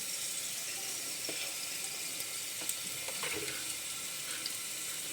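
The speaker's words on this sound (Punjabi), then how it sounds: "ਲਸਣ ਨੂੰ ਅਸੀਂ ਚੰਗੀ ਤਰ੍ਹਾਂ ਲਾਲ ਕਰਾਂਗੇ" Garlic and cumin fry in a pan until they turn red, giving a soft, steady sizzle with faint crackles and a few small clinks, heard close and quiet without any talk.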